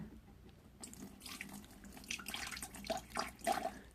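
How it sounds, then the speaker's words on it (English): Water from an unscrewed sprayer bottle trickles and splashes into a small dish in an invertebrate enclosure, a faint, close, uneven pouring with brief drips near the end. "just unscrew the cap of the sprayer so I can fill a dish"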